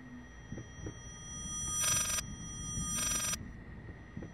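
A telephone in Layers of Fear rings twice. Each ring is a bright, sustained electronic trill, and the two are spaced about a second apart over a low, murky ambient drone.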